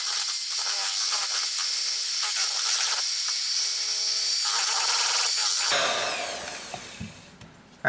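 Electric hand mixer beating large eggs one at a time into cheesecake batter for a blueberry cheesecake, a steady loud whirring drone that drops in pitch and fades toward the end.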